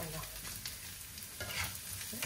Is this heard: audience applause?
no